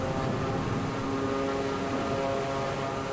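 A Draco propeller plane in MSFS 2024 rolls down the runway at full throttle, its engine a loud, steady, unbroken drone that holds constant throughout.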